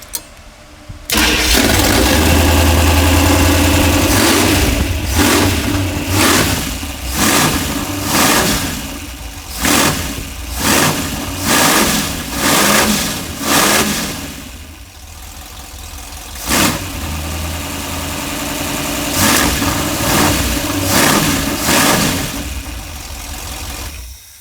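A 1968 Winnebago motorhome engine, freshly fitted with new throttle linkage and transmission kickdown cable, cranks and starts, then idles and revs in a series of sharp, loud throttle blips close to the microphone.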